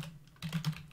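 Computer keyboard keys, including the tab key, pressed a few times in quick succession, giving crisp close taps over a steady low hum, with no voices.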